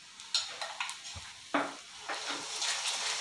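Onions frying in a pan while being stirred during cooking, with soft sizzling and scattered scraping, tapping strikes of a spoon against the pan, close and fairly quiet, with no talk.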